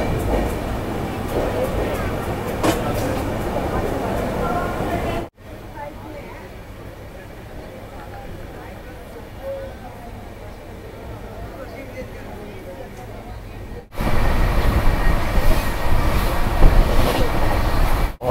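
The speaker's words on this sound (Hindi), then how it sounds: "हमारी ट्रेन सब्जी मंडी रेलवे स्टेशन को क्रॉस करते हुए" A passenger train running from Delhi to Amritsar rumbles steadily along the track, loud and close, with a quieter stretch in the middle before the roar swells again.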